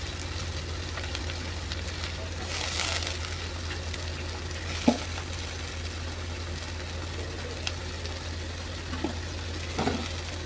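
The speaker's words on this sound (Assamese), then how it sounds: "মই আলুখিনি দি দিলোঁ।" Potatoes fry in a pan, giving a steady sizzle under a low background hum, with a few soft clinks and stirring scrapes scattered through and no one speaking.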